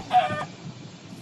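A chicken in a survival crafting video game gives one short, clear cluck at the start, followed by quiet game ambience.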